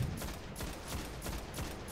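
Rapid automatic gunfire from the video game Destiny crackles in a dense, steady stream of repeated shots, loud and continuous with no talk over it.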